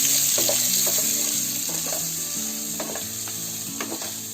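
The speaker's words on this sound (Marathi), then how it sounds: "कांदा चांगला लाल होईपर्यंत भाजून घ्यायचा आहे" Steady crackling sizzle of onions frying in a hot pan, with occasional scrapes and stirring clatter throughout; no talking.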